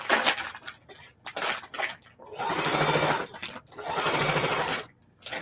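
Sewing machine stitching a tote made from a feed bag, running in several close bursts of steady whirring, with longer sustained runs in the second half and brief pauses between.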